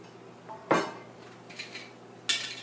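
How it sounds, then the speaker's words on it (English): Metal jar lids dropped into a pot of boiling water for pickling, a few sharp metallic clinks and clatters at close range, spaced irregularly against a faint background. "if you want to soften your lids, the lids, I kind of drop them in here, and this is boiling too"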